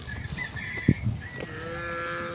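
Cattle of assorted breeds moo at a farm, one loud close bellow near the middle followed by a shorter call, over steady outdoor background noise with faint distant sounds.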